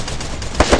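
Machine gun fire in a Free Fire match, rattling bursts of automatic shots with two louder bursts near the end, mixed with game noise and no talking.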